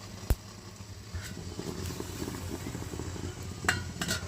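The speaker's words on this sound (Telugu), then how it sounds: "దోశలు అయితే ఇలా పోసేసుకోవాలి" Dosa batter hits a hot pan with a steady, close hiss of sizzling, broken by a few sharp utensil taps and clinks.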